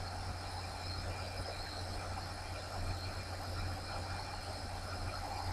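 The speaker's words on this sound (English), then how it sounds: "I can hear the cicadas and everything going too." A steady outdoor drone of cicadas and other insects, buzzing and chirring continuously at low level, with a constant low hum underneath and no clear pauses.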